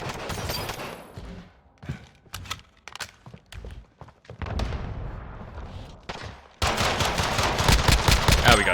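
Pistol with a laser sight firing rounds into a piece of wood in Modern Warfare 2019, a series of sharp close shots spaced apart with handling clicks and movement between, then a louder sustained burst of noise at the end.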